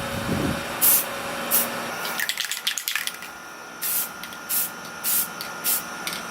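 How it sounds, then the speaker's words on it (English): Several short hissing bursts of spray paint onto a patio table, evenly spaced, with a softer rattling hiss in the middle; close and fairly quiet, no talking. "with the first bit of spray painting done on the table"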